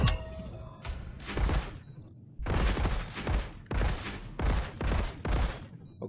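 Bursts of rapid gunfire from a first-person shooter demo, several loud volleys of a few shots each separated by short pauses, up close with no talking over them.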